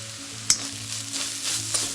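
Grated coconut fries in a pan for rava ladoo, giving a soft continuous sizzle with a couple of brief stirring scrapes, close and fairly quiet, with no voices.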